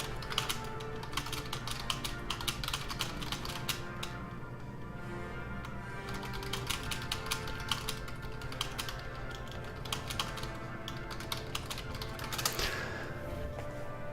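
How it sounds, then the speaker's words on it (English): Fast, continuous keyboard typing, close and fairly quiet, with bursts of rapid key clicks and brief pauses over a low steady hum; no voices. "Sorry about all the typing."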